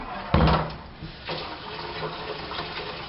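Hot tap water starts running into a bucket for sterilizing beer-brewing gear, opening with a loud gush that settles into a steady splashing stream, with faint background noise.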